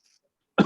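A single sharp cough at the end of a near-silent stretch on an online class call, from a person suffering from a cough and cold, close to the microphone.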